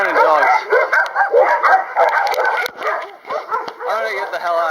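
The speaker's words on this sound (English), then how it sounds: "It's full of abandoned dogs." Abandoned dogs barking near a cemetery in Iasi, a close, loud run of yips, barks and whimpering howls following one another almost without pause.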